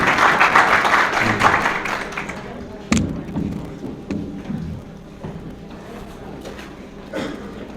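Crowd applause welcoming a speaker at a Kashmiri American Alliance New Year celebration and opening ceremony, clapping strongest at first then thinning out, with scattered thumps and a few voices as it fades.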